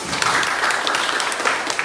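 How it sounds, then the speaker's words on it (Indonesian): Students in a classroom clap together in a brief burst of applause, with dense, lively hand claps. "kasih dulu tepuk tangan buat kamu"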